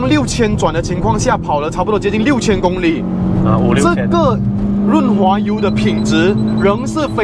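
A manual Proton Iriz engine revs hard past 6000 rpm at full throttle on a climb, a steady loud drone with a rising pitch. Continuous talk runs over it.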